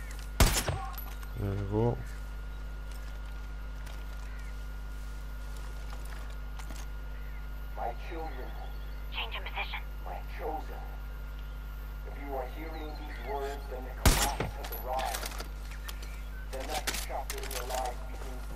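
A powerful gun fires in Far Cry 5: loud sharp shots at the start and again around the middle and end, with bursts of clattering action between, and someone speaking briefly over it.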